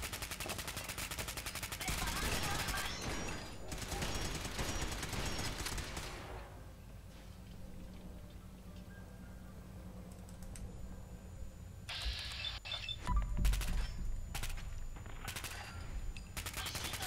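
Spray cannon weapon firing in Fallout 4, heard as a dense, loud burst of rapid shots in the first six seconds, then a quieter stretch and a second short crackling burst near the end.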